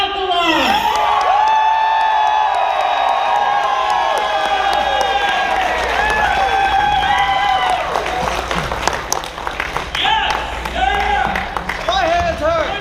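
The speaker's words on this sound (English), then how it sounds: "That cheer, that's going to overshadow anything that I can possibly do up here." A standup comedy crowd bursts into loud applause and cheering as comedian Alkali is introduced. Whoops and shouts ring out over continuous clapping that stays full and loud throughout.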